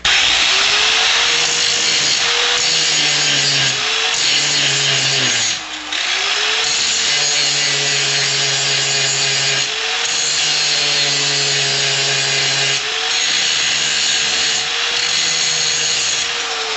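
A grinder cutting a saw tooth, a continuous loud abrasive grinding with a steady motor whine that rises and dips as the wheel bites, close and unbroken except for one brief lift.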